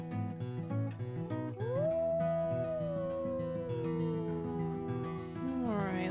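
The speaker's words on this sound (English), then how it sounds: "let's give a howl, let's see" A wolf howl in a wolf-pack video game rises into a long, sustained tone that holds steady for several seconds, then slides downward, with other howls and background game music underneath.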